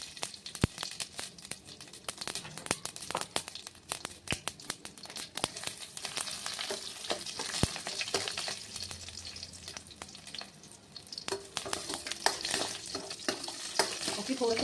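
Mustard seeds and garlic cloves fry in hot oil in a pan, a steady close crackle of popping and sputtering with occasional stirring scrapes, no voices.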